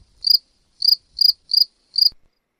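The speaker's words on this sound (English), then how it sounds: "Can I get some crickets" A cricket sound effect plays five short, high chirps in an even rhythm against total silence, clear and close with no voices.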